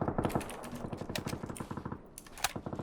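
Automatic gunfire in PUBG, rapid bursts of sharp shots in quick rhythmic strings, several volleys close and loud, with a short lull before a few final shots.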